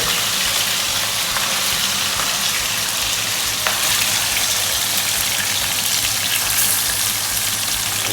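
A loud, steady sizzle of chicken frying in a pan fills the whole stretch, dense and close, without any voices.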